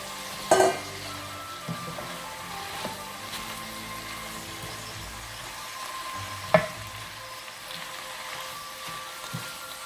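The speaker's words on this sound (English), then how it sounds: "Give that a good stir. And then we're going to put in the pak choi." Prawns and pak choi stir-frying in a hot pan, a steady close sizzle with a few sharp clatters of stirring near the start and middle, no voices.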